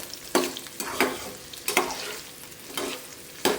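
Sliced onion and grated coconut frying in a pan, a soft continuous sizzle broken by regular scraping stirs of a spatula roughly every half second to second, close and fairly quiet with no voices.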